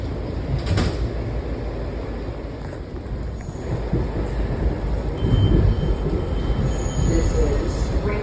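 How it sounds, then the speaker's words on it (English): Metro train doors slide open at Greenbelt station, the last stop on the line, with a rumbling platform and carriage noise and a clunk of the doors amid announcements and background chatter. "Doors open."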